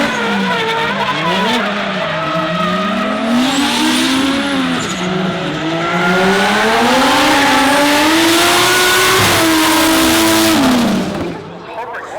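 Nissan S15 drift cars battling in a D1NZ Pro-Am round at Taupo, engines revving hard and wailing up and down continuously, close and loud throughout with rising and falling pitch and a sharp cut near the end.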